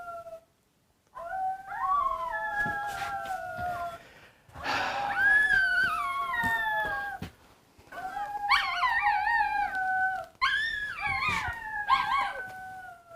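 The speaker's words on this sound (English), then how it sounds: "I don't even know what she's howling at." A dog howls in long wavering, sliding calls, several separate howls with short pauses between them, close and fairly loud, rising in pitch toward the end, with no talking over them.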